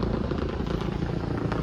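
Helicopter flying over a busy car meet, a loud continuous low rotor rumble and drone filling the whole stretch with no pauses.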